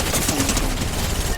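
Rapid gunfire from a weapon in the video game Fortnite rattles in a brief, dense burst of shots at moderate loudness, with a faint voice murmuring underneath.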